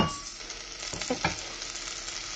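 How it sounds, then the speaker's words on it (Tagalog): Onions, tomato, ginger and lemongrass sautéing in a saucepan, a steady close sizzle and hiss with a few soft stirring scrapes partway through, and no talking. "nagisa muna ako ng onions, tomato, ginger, and lemongrass sa ating saucepan"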